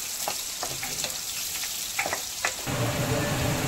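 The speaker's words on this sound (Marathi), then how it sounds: "जे हे 1 कांदा कापलेला होता ते घालत आहे। कांदा मस्त नरम होऊ द्यायचा।" Chopped onion and curry leaves frying in hot oil, a busy close sizzle with light stirring clicks that swells into a louder, denser crackle near the end, with no talking.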